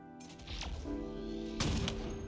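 Sniper rifle fire in Halo multiplayer, two loud booming shots about a second apart over a steady game background hum, with no talking.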